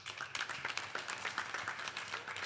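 An audience at a Ramayan Yagna anniversary gathering in a Mississauga temple claps steadily, a fairly faint, even wash of many hands that continues throughout without pause.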